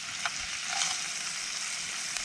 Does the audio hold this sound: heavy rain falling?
no